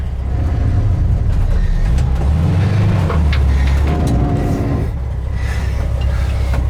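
A 1968 VW single-cab bus rolls along with a low engine drone and a rough, grinding rub from tires catching the bodywork, loud and close throughout with no talk.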